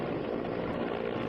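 An Indian Air Force rescue helicopter hovers near a dam in Jammu, its steady, loud rotor and engine roar filling the air without a break.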